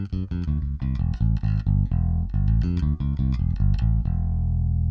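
Bass guitar played through the distortion of a Trace Elliot Transit B preamp: a loud, continuous run of thick, gritty plucked notes in a choppy rhythm, with the last note ringing out alone.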